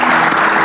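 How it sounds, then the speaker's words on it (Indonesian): Dense, steady applause from a television studio audience fills the whole moment, a crowd clapping loudly without pause. "Saya minta tepuk tangannya untuk tamu-tamu saya luar biasa."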